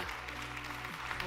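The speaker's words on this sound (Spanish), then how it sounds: "Un fuerte aplauso entonces, Sandra Valenzuela." A forum audience at WEF Colombia 2022 applauds Sandra Valenzuela with a brief, steady wash of clapping, while a voice and low tonal sounds continue underneath.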